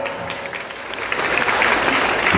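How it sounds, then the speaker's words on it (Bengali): An audience claps at a state karate coaching camp in Dhupguri: dense, steady applause from a crowd that swells louder and stays full to the end. "জোরে হাততালি হবে, হাততালি থামবে না"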